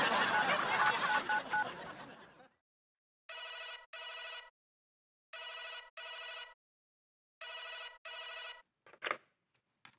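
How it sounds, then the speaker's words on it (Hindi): A telephone rings for a call in a repeating double-burst pattern, four paired electronic trills spaced evenly after a louder stretch of mixed noise, followed by a sharp click. "हम अनीता जी को फोन करके बताते हैं"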